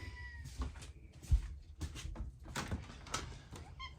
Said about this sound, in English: can you hear one of my cats?